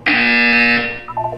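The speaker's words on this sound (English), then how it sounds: "When you hear the buzzer, look down at the floor" A loud, steady electronic buzzer from the video game Portal 2 sounds continuously for nearly a second, then cuts off, followed by a brief, quieter chiming tone.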